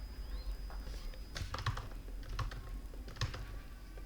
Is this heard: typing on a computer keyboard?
yes